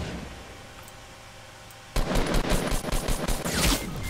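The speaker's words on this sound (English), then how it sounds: "Getting shot at." Rapid gunfire in a multiplayer shooter video game, starting abruptly after a quiet ambient stretch and continuing as loud, dense automatic bursts to the end.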